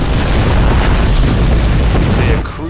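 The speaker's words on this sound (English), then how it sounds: "I love flying through those explosions." A ship flies through a booming explosion in the Star Trek Online space game, a loud, dense roar that fills the whole stretch before tailing off at the end.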